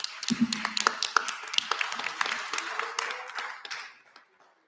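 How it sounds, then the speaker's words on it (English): A task force hearing audience gives a short round of applause, scattered claps building briefly and then fading out. "Just give everyone a round of applause"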